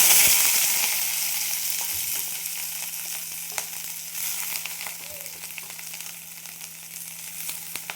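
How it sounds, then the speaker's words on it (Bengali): Onions fry in a little oil with whole garam masala for chicken curry, producing a steady, fairly loud sizzle and spitting crackle from start to finish, with no talk. "পেঁয়াজগুলো ভেজে নেব।"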